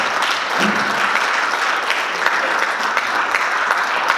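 An audience at a study-group meeting claps to welcome a speaker, a full and steady round of applause from many hands that holds evenly for about four seconds.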